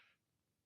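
A single sharp cough bursts out close to a microphone at a school board meeting, loud and abrupt after near silence.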